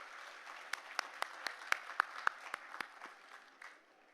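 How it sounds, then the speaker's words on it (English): Applause from a gala audience in a banquet room, a short burst of clapping with several sharp, loud claps standing out, fading after about three seconds. "a big round of applause"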